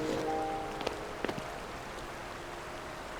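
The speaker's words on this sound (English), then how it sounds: "Again, it's raining," Steady rain falls in the Zelda: Tears of the Kingdom video game, a soft even hiss of drops on surfaces with a couple of faint tones and brief knocks near the start.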